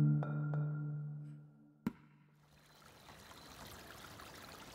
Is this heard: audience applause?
no